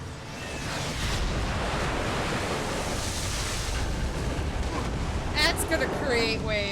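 Ocean surf in the Batman: The Enemy Within video game washes in a steady, loud roar across the whole stretch, with a few brighter splashing swells near the end.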